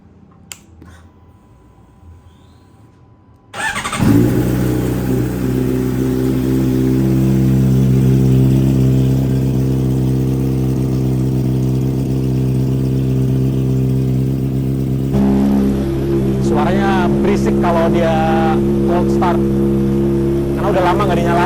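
A motorcycle that has sat unused for a long while starts after a brief quiet stretch, then runs loud and close with a steady idle and rev, while a person speaks over it near the end.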